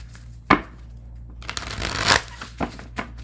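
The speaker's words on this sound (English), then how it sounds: "Only 2 more decks to shuffle" Tarot card decks being shuffled nearby, with a sharp riffle at the start and then a longer flurry of papery card noise and a few short taps, alone with no speech.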